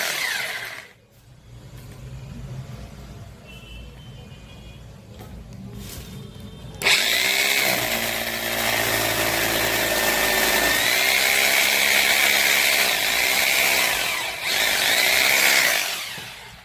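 A power drill boring holes into a wall to mount an AC voltage stabilizer, loud sustained whirring that surges and drops as the bit bites in, preceded by quieter handling noise.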